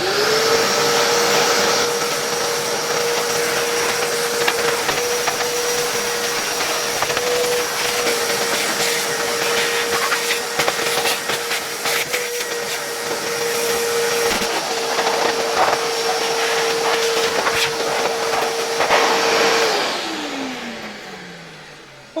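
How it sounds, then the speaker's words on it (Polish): A modern workshop vacuum cleaner runs steadily while cleaning an old AEG heater from about 1939/40. The whine holds loud and constant, sometimes thumping against the work, then winds down at the end. "biorę po prostu mój warsztatowy, zwykły, współczesny odkurzacz"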